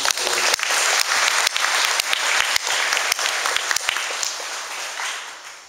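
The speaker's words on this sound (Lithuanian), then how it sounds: "Taigi plojame jam, ačiū." Audience in a church gathering applauding, dense steady clapping that starts strong and gradually tapers off near the end.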